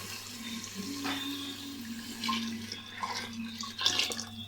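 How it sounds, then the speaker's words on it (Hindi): Boiled water poured into a cooking pot of spiced white bean gravy, heard as a running, splashing water stream with a few louder sloshes near the end, steady and close, no talk over it. "अब इसमें हम पानी शामिल करेंगे, बॉईल पानी"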